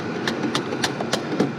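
Five quick, evenly spaced metallic taps seat a lug on a factory wiring harness during a 2.3 EcoBoost engine swap into a rear-wheel-drive Ford Fusion, close and crisp over a low background murmur.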